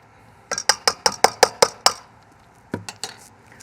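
Spoon clinking against a dish while potatoes are mixed with cream and garlic: about eight quick, evenly spaced clinks, a short pause, then a few more, close and clear with no talk.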